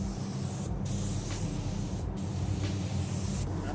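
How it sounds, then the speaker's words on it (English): Spray gun applying a coat of sealer to a car body in an auto body shop, a loud continuous hiss with short breaks between passes. "Spraying one coat of sealer."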